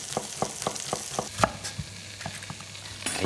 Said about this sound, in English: Really, really gorgeous, sizzling lamb shanks.